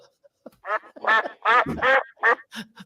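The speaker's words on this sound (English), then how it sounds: "It's just a few ducks." A few ducks quack in a run of loud, close, nasal calls, about six bursts coming in quick succession with short gaps, no voices over them.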